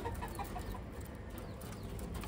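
Taiwan pigeons ready to breed coo and flutter faintly in a coop, with soft, scattered bird sounds over a low background rumble, brief and distant.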